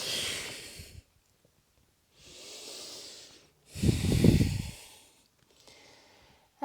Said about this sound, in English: 2 more breaths here.